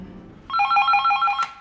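A telephone bell starts ringing about halfway through, a steady trilling ring that is loud and close and heard alone with no voices.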